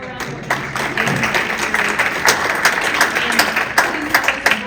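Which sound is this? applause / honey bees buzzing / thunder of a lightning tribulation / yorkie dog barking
applause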